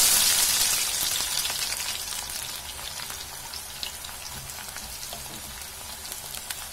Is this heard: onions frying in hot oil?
yes